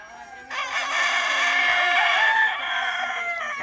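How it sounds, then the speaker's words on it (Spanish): A rooster crows loudly and close by at a rooster breeding farm, one long drawn-out call with other fowl faintly clucking around it. "El sonido inconfundible del cantar de los gallos nos da la bienvenida a la cándana."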